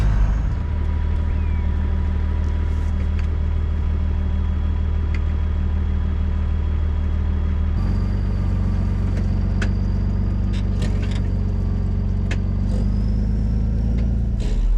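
A tractor spreading slurry across a stony field, with a steady droning engine hum that holds constant throughout and shifts slightly in tone midway, heard close and without talk.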